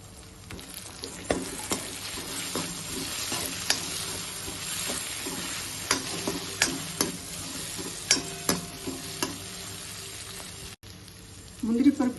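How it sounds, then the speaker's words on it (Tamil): Cashews, tomato and onion sizzle softly in a pan for chutney, with steady frying hiss and regular spatula strokes knocking and scraping at close range throughout. "தக்காளி வதங்கின அப்புறம் 5-6 முந்திரி பருப்பு இதில் சேர்த்து வதக்கணும்"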